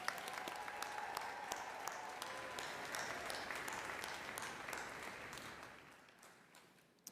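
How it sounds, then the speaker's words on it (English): At a university commencement ceremony, the audience applauds the parents, families and friends. A soft, distant, steady wash of clapping from a large hall gradually thins and fades near the end. "please join me in giving the parents, families, and friends gathered here today a round of applause."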